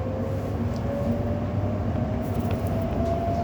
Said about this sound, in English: Southeastern train there.